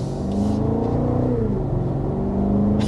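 A 2026 BMW X6 V8 engine accelerating on a windy day, a loud, smooth, rising rumble heard close up that builds steadily and holds with no talking.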